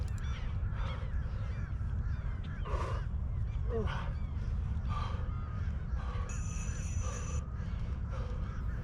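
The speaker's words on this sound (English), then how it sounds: "Pretty sure a few seagulls were talking trash, too." Harsh, repeated calls from seagulls at an outdoor exercise session, several squawks spread across a steady background rumble, with a tonal beep near the end.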